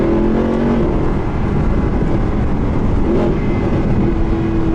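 A Mercedes SLS engine heard from inside the cabin with the windows closed, a steady loud drone with rising and falling revs that holds for several seconds, no talking over it.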